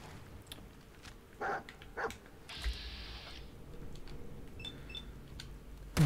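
A dog barks in Fallout 4, giving a few short, separate barks over quiet game ambience. A brief burst of noise comes partway through, and no one talks.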